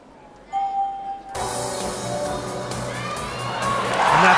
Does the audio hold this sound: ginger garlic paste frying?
no